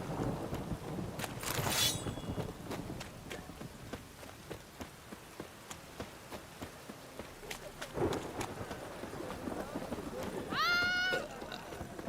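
Rain and thunder in The Witcher 3 game world, a steady wash of rain with rumbling swells, mixed with clip-clopping hooves and scattered game sounds and brief voices.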